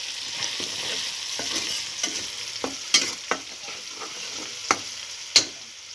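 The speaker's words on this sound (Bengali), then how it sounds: "দিয়ে দেবো 4টে এলাচি, 3 টুকরো দারচিনি দিয়ে আমি তেলের সাথে একটুখানি ভেজে নেব" Bay leaves, cardamom pods and cinnamon pieces fry in hot oil with a gentle, continuous sizzle, punctuated by sharp spoon scrapes and taps against the pan.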